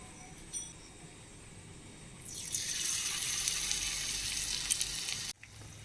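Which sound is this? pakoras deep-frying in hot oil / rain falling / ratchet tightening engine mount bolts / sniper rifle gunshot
pakoras deep-frying in hot oil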